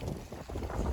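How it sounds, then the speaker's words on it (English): Gusty outdoor wind buffeting the microphone, a steady broadband rumble swelling and dipping over a second, loud and close with no voices. "Yeah, it's kind of windy."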